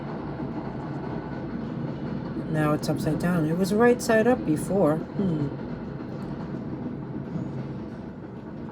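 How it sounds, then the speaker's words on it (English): A train rumbles past steadily in the background with clattering wheels, while a person talks over it for several seconds. "Let the train go by."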